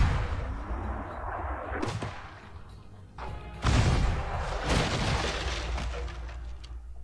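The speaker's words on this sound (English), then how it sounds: "English cannons." English naval cannons fire in the TV show Shōgun, several heavy booms with sharp cracks spaced a second or so apart, loud and close amid rumbling battle noise.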